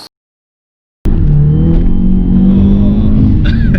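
Skoda Octavia vRS on a stage 3 tune with a full Scorpion exhaust system and DSG gearbox pops and crackles on the overrun, a loud close rumbling burble that bursts in after a second of silence and carries on steadily.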